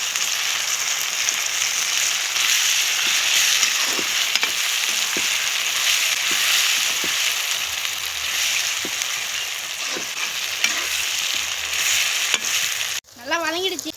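Sliced ridge gourd sautéing in a hot pan: a continuous, fairly loud oily sizzle with occasional soft scrapes of a stirring spoon, briefly cut off near the end.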